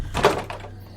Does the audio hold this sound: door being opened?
yes